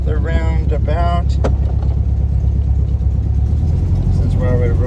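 A vintage Herbie car rolls through a roundabout, its engine giving a steady, close, low rumble throughout, with a few brief voice-like tones over it.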